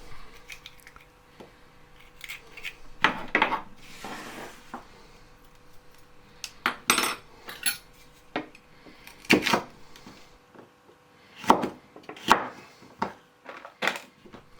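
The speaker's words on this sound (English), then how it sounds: "just chop them in half and cut them into about 2 centimetre chunks" A kitchen knife chopping halved small peppers into roughly two-centimetre chunks on a board, irregular crisp cuts and knocks clustered in short runs, close and fairly quiet, with no talking.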